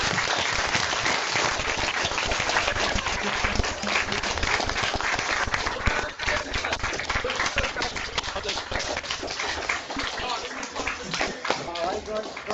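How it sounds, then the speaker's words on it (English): Applause for the Hall of Fame class of 2001 comes as dense, sustained clapping from many remote participants, fairly loud and uneven, with some talking audible beneath it. "join me in giving a warm round of applause to class of 2001"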